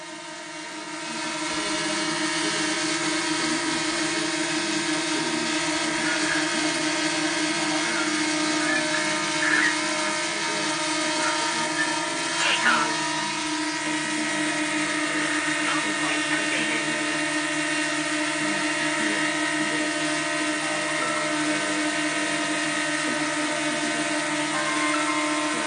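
Small camera drone lifting off, its propellers giving a steady, loud buzzing drone with sustained tonal whine that continues throughout without speech.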